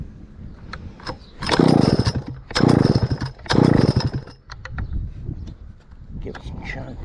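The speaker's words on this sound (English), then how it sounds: "Let's fire up and see what it does. If we can get it running, it runs up." A Stihl 051 chainsaw is pull-started in several close, loud bursts, its engine sputtering and briefly catching between attempts; a person talks in between.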